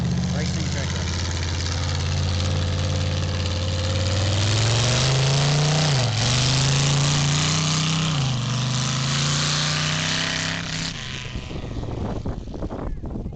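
A racing tractor's heavy engine idles loudly, then revs up and down in surges before dropping back, close by, with sputtering near the end.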